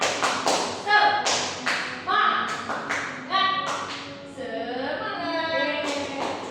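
Children perform a rhythmic 'tepuk semangat' clapping chant in a small classroom group, sharp claps in a patterned beat mixed with their chanted voices.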